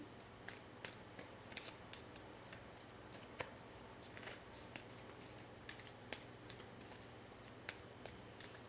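Tarot cards are shuffled close to the microphone in a soft, steady riffle marked by small irregular snaps and flicks, quiet over a faint low hum and without talk.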